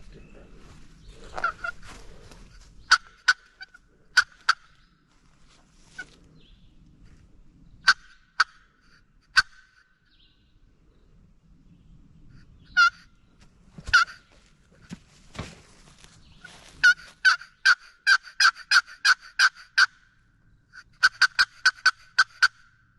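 Several wild turkey gobbles ring out in a Georgia woodland during a hunt, scattered sharp calls at first, then a rapid burst of repeated gobbling near the end, fairly distinct against a quiet background.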